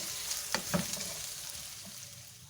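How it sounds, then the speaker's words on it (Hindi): Onions sautéing in a pan for a chicken cheese roll filling: a soft, steady sizzle broken by a couple of quick spatula scrapes, fairly quiet and close, with no talking. "तो पहले प्याज को सौते कर लेती हूँ"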